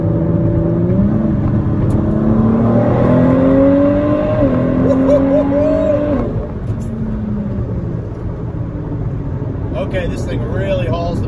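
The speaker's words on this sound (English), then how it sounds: "Okay, this thing really hauls the mail. Twin turbo EcoBoost." Ford GT supercar with a twin-turbo EcoBoost engine and 647 horsepower accelerating, a loud, steady engine drone rising in pitch heard from inside the cabin, easing after about six seconds, with talk over it.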